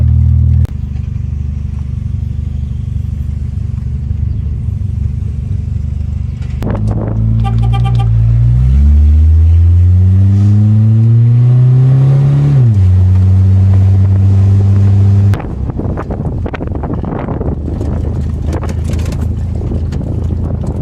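An unmuffled vehicle's exhaust roars loud and close throughout, with a rising rev as it accelerates through the middle, then settling into a steady rough drone while riding.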